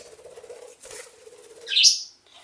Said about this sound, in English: We got 3 budgies here.